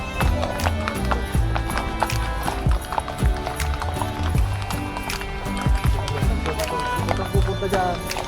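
Horse hooves clip-clop steadily at a running pace during a Christmas Eve family ride toward the City of Pines, the rhythmic hoofbeats sitting under dense background sound with voices talking throughout.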